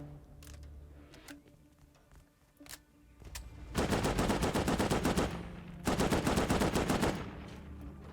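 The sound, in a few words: gunfire in the video game Rust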